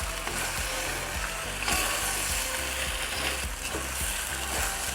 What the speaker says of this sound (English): add in the catfish. And stir fry.